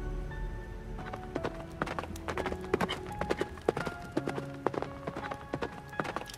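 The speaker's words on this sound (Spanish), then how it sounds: "Desde la terraza podía ver cómo jinete y caballo se alejaban por el camino a gran velocidad" Horse hooves clip-clopping in a rapid, uneven rhythm along a road as horse and rider gallop off, steady sharp strikes continuing through the whole stretch with faint background ambience.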